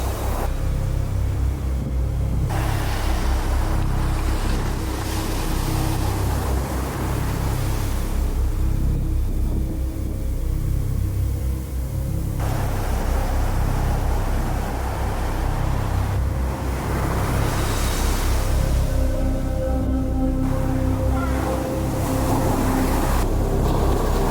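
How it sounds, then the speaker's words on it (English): Big ocean waves roll and crash against a Virgin Islands shore in a continuous loud roar, heavy with wind buffeting the microphone, with no talking. "they're saying this is the biggest they've ever seen the waves"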